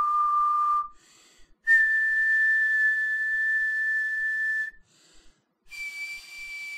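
Clear high-pitched whistled tones, each held steadily for a few seconds, separated by short breaths and pauses, close and alone.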